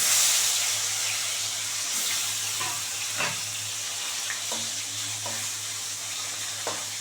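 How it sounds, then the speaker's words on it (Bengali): Saytic fish frying in hot oil gives a steady close sizzle with a low hum, broken by several sharp crackles and spatters, and no talking. "আরও 2 পিঠ মাছ ভালো করে ভেজে নেব"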